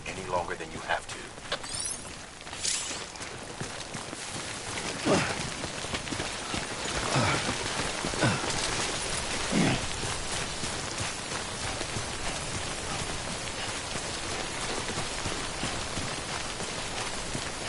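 Steady timefall rain from Death Stranding Director's Cut hisses continuously across the whole stretch, with a few brighter splashy bursts and faint footstep-like clatter mixed in, and no talk over it.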